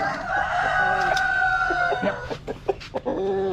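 Orpington chickens on a farm, with a rooster crowing loudly in one long drawn-out call, followed by scattered clucks and short squawks from nearby hens.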